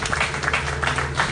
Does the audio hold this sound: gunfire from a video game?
no